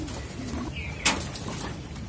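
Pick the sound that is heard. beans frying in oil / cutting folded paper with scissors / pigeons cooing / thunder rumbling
pigeons cooing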